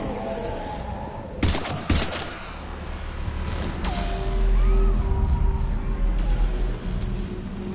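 Gunfire in the sci-fi shooter Mass Effect 3: a few sharp, loud shot bursts up close, followed by rumbling impacts and mechanical whirring in a chaotic combat scene.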